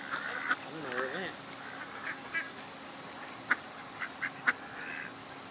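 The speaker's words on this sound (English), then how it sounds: "This entire vlog is going to be about ducks and squirrels and how I can walk towards ducks and they will not like it" Ducks quack at a lake, with a few short, scattered calls rising over quiet outdoor background and soft voices nearby.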